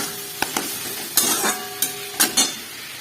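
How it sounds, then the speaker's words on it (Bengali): Fried potatoes being sautéed in a spice masala with salt and a little water in a pan, a close, fairly loud sizzle punctuated by several sharp scrapes and knocks of a spatula, with no voices. "তার মধ্যে আমি ভাজা আলুটাকে দিয়ে তারপরে কষাবো।"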